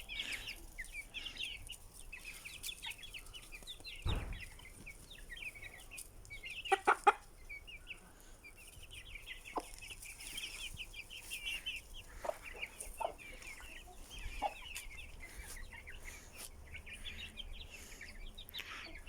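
Young roosters and hens on a Turkish farm cluck softly and repeatedly, a scatter of short calls at moderate distance with a few sharper bursts, over a quiet outdoor background.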